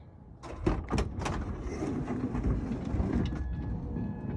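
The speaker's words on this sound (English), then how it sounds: "replace the bearings on their minivan door so that it doesn't keep making that clunk, clunk, clunk, clunk, clunk, clunk, clunk sound" The sliding door of a Honda Odyssey minivan with worn bearings rolls along its track with a rumbling slide and several sharp clunks, loud and close, with no talking.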